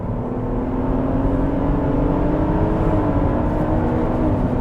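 Supercharged BMW E39 530i Touring accelerating hard, its engine note rising in a steady loud whir and drone that climbs in pitch and briefly dips before climbing again, close and alone.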